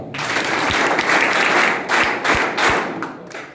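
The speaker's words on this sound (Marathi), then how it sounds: "सर्वांनी एकदा जोरदार टाळ्या" A crowd of students at a coaching-class guidance gathering bursts into loud, sustained applause, dense clapping that swells and then fades with a few thumps near the end.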